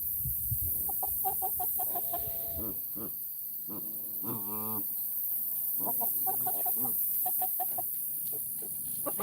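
Backyard chickens cluck and squawk in a busy, continuous flock chorus, with sharp repeated calls and a rising squawk standing out close to the microphone.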